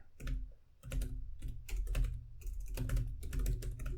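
Fast typing on a computer keyboard while writing SQL queries in Microsoft SQL Server, close dense bursts of key clatter separated by short pauses, with no voice.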